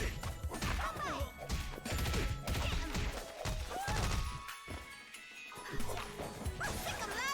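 Big dog character barking amid fighting-game action in Them's Fightin' Herds, sharp yaps and bow-wows mixed with loud smashes, hits and crashing effects, dense and busy throughout.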